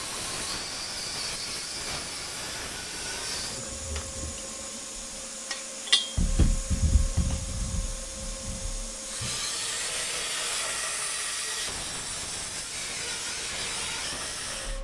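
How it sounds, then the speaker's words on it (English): A plasma cutter torches holes through steel parts for a homemade carnival ride, giving a steady loud hiss with a harsher crackling burst midway before the hiss settles again. "that's where I'm going to go ahead and torch these holes out with the plasma cutter"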